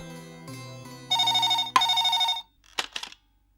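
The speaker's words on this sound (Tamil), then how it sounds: "மணி அடிக்கிறது பாருங்க" A telephone bell rings in a home scene, a near, loud metallic trill lasting about a second after a low hum, followed by a few short, faint clattering sounds.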